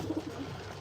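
Racing pigeons coo softly in a short, low, repeated burble against steady background noise, a few close murmuring calls without any talk.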